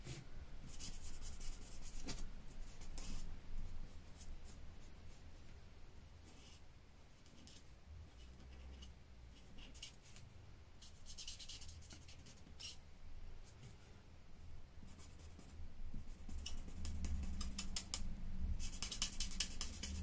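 A pen scratches and rubs steadily across card while colouring the tips of stamped bird wings on a handmade birth card, with short strokes close and quiet and no talking.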